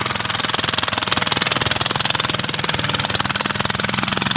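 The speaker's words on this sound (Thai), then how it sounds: "เวลาเร่งเครื่องแรงอยู่ข้างในครับบ" A hard-revved car engine roars loud and close with a fast, rough pulsing rattle, held at high revs throughout.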